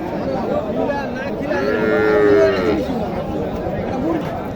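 Cattle lowing at a busy livestock market in Naogaon, Bangladesh, where Sahiwal and local cows and calves are for sale; one long, loud moo rises and falls in the middle while crowd chatter and talk continue underneath.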